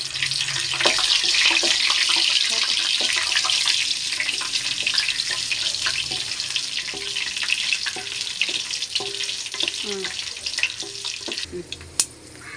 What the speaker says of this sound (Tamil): ஏலக்காய், ஸ்டார் பூ, சுருள் பட்டை, ஜாதிப்பூ, மராத்தி கொம்பு இது எல்லாத்தையும் போட்டு நம்ம நல்லா வதக்கிடணும்